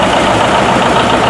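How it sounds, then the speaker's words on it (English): Steady, loud engine idle from a Farmall 1068 pulling tractor fitted with a V8 Chevy engine, a continuous low rumble with slight vibration and no talk over it. "that's a 1068 Farmall with a V8 Chevy motor in it"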